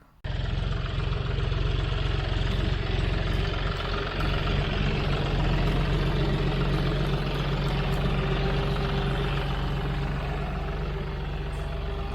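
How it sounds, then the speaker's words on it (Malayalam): A tractor working a sweet potato field during harvest, its heavy diesel engine giving a steady, loud low rumble and drone with no break. "പക്ഷേ ഇന്ന് ഇവർ ട്രാക്ടർ ഉപയോഗിച്ചാണ് വിളവെടുക്കുന്നത്."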